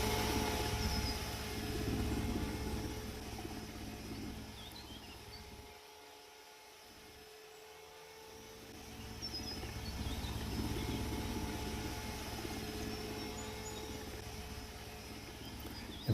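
A simulated RC helicopter flying in the VR game RC Pilot Trainer gives a steady, faint rotor and motor drone. It dips briefly in the middle, then returns, and no one speaks over it.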